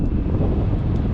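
Strong wind gusting steadily at a seashore where trash piles up, a continuous loud rushing roar buffeting the microphone with no pauses.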